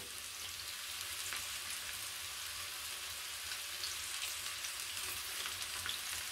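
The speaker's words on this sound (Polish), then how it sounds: "Na początku wrzucamy naszą cebulę oraz dodajemy 2 ząbki czosnku" Onion and garlic cloves frying in hot olive oil in a pan, a steady soft hiss and crackle that stays even throughout, quiet and close, with no talking.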